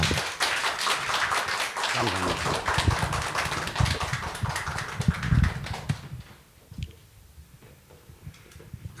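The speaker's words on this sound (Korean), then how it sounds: "우리 박수로 맞이하도록 하겠습니다." A church congregation claps at a Korean Sunday service to welcome a lay speaker: several seconds of dense, fairly close clapping that stops abruptly around six seconds, leaving quieter room sounds and a few stray taps.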